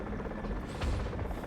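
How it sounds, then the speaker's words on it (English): Helicopters in the video game Tom Clancy's EndWar make a steady low rotor rumble and buzz, continuous and fairly close, with no voices. "There's some choppers right there."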